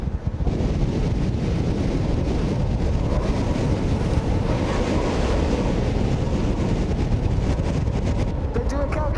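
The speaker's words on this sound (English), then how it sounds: "65, maybe 70 miles an hour worth of wind" Strong wind of about 65 to 70 mph roaring steadily and loudly across the microphone, a dense continuous buffeting with no letup.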